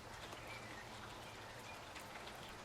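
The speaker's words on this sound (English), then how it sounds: "Her hood muffled most sound, making the raindrops so loud" Steady rain pattering on a surface, a soft continuous hiss of drops, fairly quiet and close with no voices.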